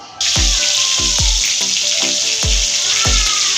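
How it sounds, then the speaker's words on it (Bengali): Prawns fry in hot mustard oil in a wok with a steady loud sizzle, punctuated by regular low thuds about every half second. "আমি চিংড়ি মাছটা ভাজা হচ্ছে"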